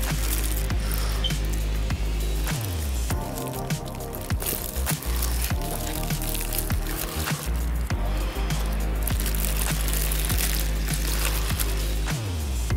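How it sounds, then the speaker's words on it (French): Slow-cooked, tender barbecue meat for tacos is tipped into a bowl and pulled apart, giving close, repeated wet squishes and soft sticky tearing with scattered clicks of utensils against the bowl, no talk. "On va venir le verser dans un bol pour l'effilocher."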